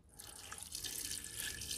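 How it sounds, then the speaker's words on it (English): Filtered water pours slowly and steadily into a Ninja Foodi pressure cooker pot, a close, continuous splashing trickle for under two seconds. "of filtered water, and it is wanting to splash real bad, so I'm going real slow"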